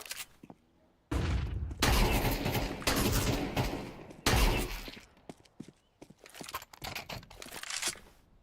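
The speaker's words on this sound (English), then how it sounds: "Flashbang." Flashbang grenade in Counter-Strike 2 going off in a sharp, loud burst, followed by crackling, shattering noise and further bangs that come in uneven clusters and then fade.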